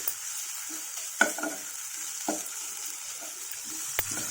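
Grated coconut stir-fried in a pan, with a soft background sizzle and a few distinct scrapes and knocks of a spoon against the pan spaced a second or so apart.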